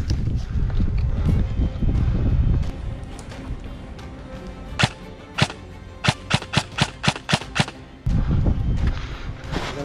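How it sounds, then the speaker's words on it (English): Airsoft guns trade fire in an outdoor game: a rapid string of sharp cracking shots, some close and loud, others lighter, arriving in quick bursts over rustling movement and no clear talk. "Another firefight between Tommy and Brent."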